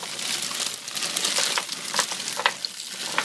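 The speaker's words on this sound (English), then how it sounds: "I'm going to take my meatballs and I'm just going to pour them straight into the frying pan" Meatballs sizzle and crackle loudly in a hot frying pan, a continuous spitting hiss with sharp pops scattered throughout.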